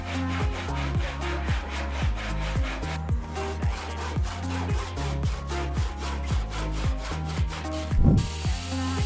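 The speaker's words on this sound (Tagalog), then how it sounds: "medyo nakakapagod maglagari" Hand saw cutting through wood for a homemade wine rack, a steady back-and-forth rhythm of close rasping strokes about two per second, briefly pausing near the middle before resuming.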